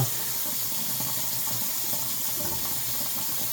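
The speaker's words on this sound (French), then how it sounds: "j'aime m'éclabousser le visage d'eau, mais là, comme je suis devant vous, allez, je vais le faire" Running water from a sink tap splashes steadily as fresh water is cupped and splashed onto the face, a constant close hiss with no talk.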